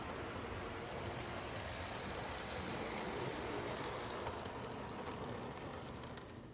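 A small HO scale model locomotive in Conrail paint runs along its track, giving a steady low rumble and whir with faint clicking, soft and even throughout with no voices.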